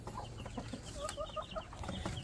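A mother hen with her chicks gives soft, repeated low clucks close by, while faint high peeps from the chicks and other fowl sound in the background.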